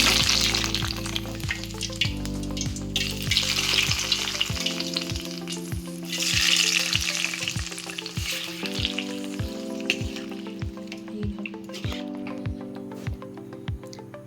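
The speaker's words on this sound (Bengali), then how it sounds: "তো এরপর মাংসটা এবার আমি কড়াইতে বসিয়ে দিয়েছি।" Chicken sizzles in a wok with oil from fried onions and spices, loud hissing bursts swelling and fading as it is stirred, while steady music plays throughout.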